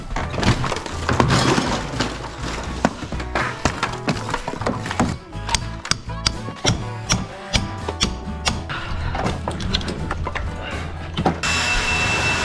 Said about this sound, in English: I think I'm gonna have to sawzall from here over